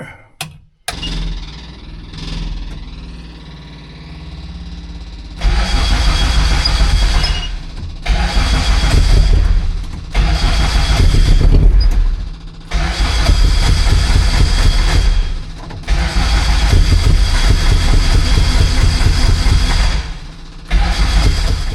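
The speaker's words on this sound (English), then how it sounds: "I'll just start it up to make sure it sounds" A car engine with newly changed spark plugs is cranked a few times before it fires up, then it runs and revs loudly in bursts with short drops in between.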